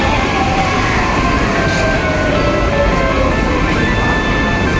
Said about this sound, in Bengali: आ गया मेट्रो।